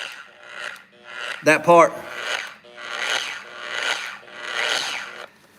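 A starter motor's Bendix drive engages in a garage with a series of harsh grinding rasps, repeating roughly every second, while someone speaks briefly over one burst.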